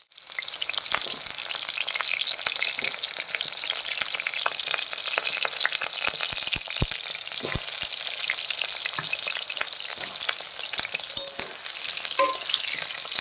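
Cut potatoes fry in hot mustard oil with a loud, steady bubbling sizzle, starting abruptly and continuing throughout, peppered with fine crackles and occasional utensil taps.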